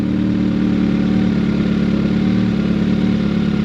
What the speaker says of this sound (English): Right there from my bike is where that friction zone hits, and it wants to start taking off.